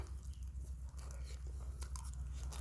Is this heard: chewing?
yes